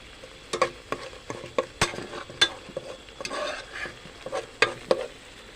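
Pork belly slices dropped into simmering Thai curry with cha-om leaves and stirred, with irregular scrapes and knocks of a ladle against the pot over a low bubbling sizzle, close and without speech.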